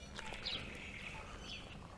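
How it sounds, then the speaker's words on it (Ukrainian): Birds chirp softly by a lake on a cool early morning before sunrise, with faint, scattered high tweets over a steady, quiet outdoor background. "А пташки цвірінькають, аж по мозгам б'є."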